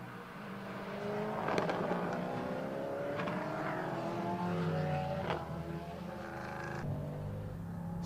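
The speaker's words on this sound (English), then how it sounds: "I will be quiet as the car accelerates out of turn 1." A 5-litre V8 race car accelerates out of turn 1 at the Estoril circuit. Its engine note rises through several gear changes, fairly gentle rather than thunderous, with other cars droning nearby.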